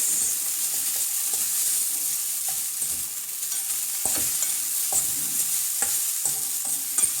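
Vermicelli upma with sugar and raisins stirred in a hot pan, a steady soft scraping and shuffling with repeated spoon strokes over a faint sizzle, close and alone without talk.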